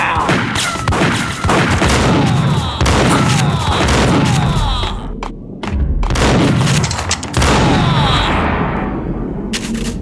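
Bursts of gunfire and heavy thuds ring out in the mobile shooter Max Payne Mobile, rapid volleys in clusters with short pauses between, loud and close.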